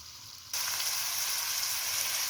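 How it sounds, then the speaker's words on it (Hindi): Onions fry in a pan over a medium flame, a steady, bright, hissing sizzle that starts abruptly and keeps going at an even, close level. "ये देखें जी, प्याज जो है ना हमारे फ्राई हो रहे हैं"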